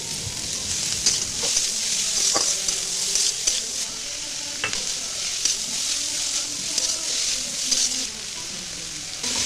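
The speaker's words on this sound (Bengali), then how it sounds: "পেঁয়াজ লঙ্কা কুচি টমেটো কুচি আর আদা রসুন বাটা দিয়ে ভালোভাবে ভাজতে হবে মশলাটাকে" A pan of onion, chopped chilli, tomato and ginger-garlic paste fries with whole garam masala and cumin. It sizzles in a steady, close hiss, with occasional clicks of stirring.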